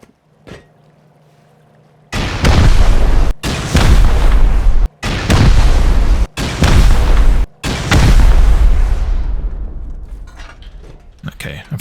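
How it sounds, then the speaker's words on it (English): Explosives blasting through a base during a solo raid in a video game, five loud booming detonations in quick succession, each a heavy close blast, the last trailing off into a rumbling decay. "for the last bit, we're just going to explode through"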